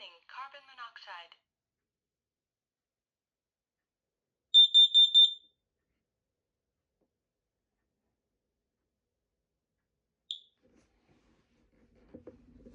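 A collector's combination carbon monoxide and smoke alarm gives a quick burst of four shrill beeps after a brief electronic voice warning, followed by a single short chirp and long stretches of silence.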